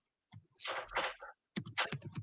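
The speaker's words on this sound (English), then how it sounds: "What are you doing, Michelle? I'm typing back to Steven" Bursts of typing on a computer keyboard, close and clear, with two clattering runs of keystrokes separated by a short pause.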